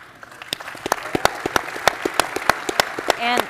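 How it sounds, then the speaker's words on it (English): Scattered, distinct handclaps from an audience at a Libertarian Party event, sparse and uneven, rising briefly to a short burst at the end. "Please join me in giving a big round of applause."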